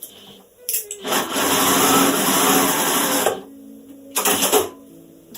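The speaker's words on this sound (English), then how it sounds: "I'm now going to sew that with a 1/4 inch seam all the way along" A sewing machine stitches a quarter-inch seam along a blanket border, running in one steady whirring burst of about two seconds, then pausing before a second short run, close and loud.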